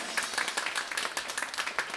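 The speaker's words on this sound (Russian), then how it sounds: "Под ваши дурные аплодисменты." Audience claps for a brass band, a short burst of fairly close, distinct hand claps in an uneven rhythm, with individual slaps standing out from a thin crowd.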